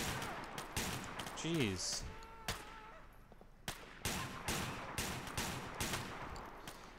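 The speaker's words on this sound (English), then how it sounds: "Are they shooting each other, I think?" Gunfire in the video game GTA IV during a state patrol police mission, a run of sharp shots and bursts, some rapid, fairly loud and close, with a voice briefly reacting.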